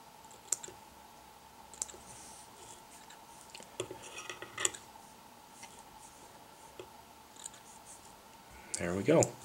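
Scissors snip stray fibers at the base of a saltwater baitfish fly, several sharp quiet clicks spaced apart, followed by a louder rustle at the end.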